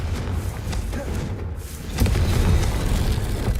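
A Confringo blasting spell in Hogwarts Legacy sets off a deep booming explosion midway, rumbling and loud over a low background roar.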